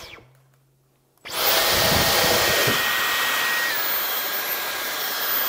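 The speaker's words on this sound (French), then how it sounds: "Je vais paramétrer mon surpuissant copain en puissance maximale, comme pour tous mes aspirateurs" Dyson V15 Detect Absolute cordless vacuum switched on at maximum power over carpet, starting abruptly after a quiet moment into a loud, steady high-pitched motor whine with airy suction rush and brief rattling.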